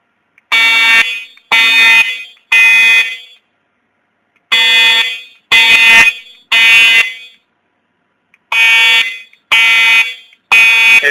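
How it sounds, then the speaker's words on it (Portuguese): Loud, close fire alarm blaring in repeated bursts of three harsh tones with short pauses between each group, no voices, during a school evacuation drill. "Foi reportado um alarme de fogo."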